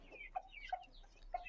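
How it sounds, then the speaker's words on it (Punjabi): Chickens, a rooster and hen among them, give soft, faint clucks while pecking at watermelon, three short calls spaced about a third of a second apart against quiet background. "ਇੱਕ ਮੁਰਗਾ ਮੁਰਗੀ ਮੇਰਾ ਬਾਹਰ ਖਾ ਰਿਹਾ ਤਰਬੂਜ਼"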